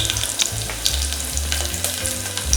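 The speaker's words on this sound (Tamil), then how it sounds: "இப்போ பச்சை மிளகாய் போட்டுக்கோங்க." Green chilies hit hot oil with fennel, crushed ginger and garlic for Bombay chutney, a loud crackling sizzle with spattering pops and low rumbling bursts, close up and without speech.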